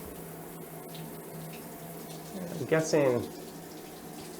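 Water runs steadily from a hotel shower in a luxury Shangri-La Toronto room, a soft constant hiss throughout, with a person speaking briefly over it near the middle.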